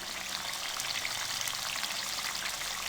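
Chicken karahi fries in a pan with a dense, continuous sizzle that stays loud and even throughout, with no voices.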